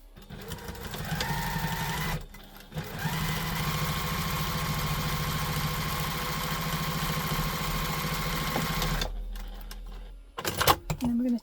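A sewing machine top stitching a tote bag runs in steady mechanical bursts, with a brief pause near the start and a stop toward the end, close and loud.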